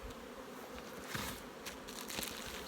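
Honey bees swarm around hives in an apiary during a summer honey flow, a steady, close droning buzz with individual bees swelling louder as they pass near.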